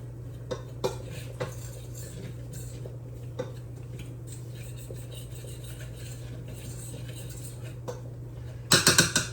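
A fork scrapes and clinks against a pan while flour is stirred into oil and meat drippings for onion gravy, producing light, irregular ticking taps over a steady low hum, then a brief burst of louder clatter at the end.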